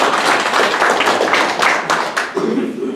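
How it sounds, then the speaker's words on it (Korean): Audience at a political debate forum applauds a speaker, a brisk crowd clapping with distinct sharp hand strikes that thins out near the end as a voice begins. "박수로 한번 청해 주시겠습니까?"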